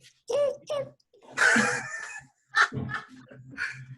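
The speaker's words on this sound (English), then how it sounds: "I guess it's a chicken." Short bursts of chicken clucking and crowing, close and clear, separated by brief pauses.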